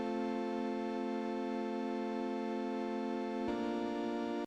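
A sustained synth chord from a Serum preset plays alone, steady and bright with rich harmonics, shifting to a new chord near the end.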